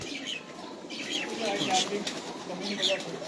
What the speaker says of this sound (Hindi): ये उस्ताद जी के संदूरी पलकों वाले कबूतर हैं और उड़ने वाले हैं